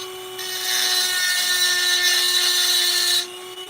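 Small chainsaw sharpening bit on a rotary tool grinding into wood during carving, a high whine that starts after a short pause, holds steady for nearly three seconds, then stops abruptly.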